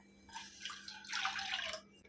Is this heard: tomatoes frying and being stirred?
no